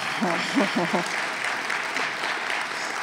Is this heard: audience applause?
yes